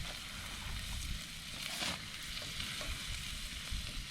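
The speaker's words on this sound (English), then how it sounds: "we're also gonna get ready to put in our eggs" Eggs and steaks frying on an outdoor griddle, giving a soft, continuous sizzle with faint scraping, heard alone at low volume.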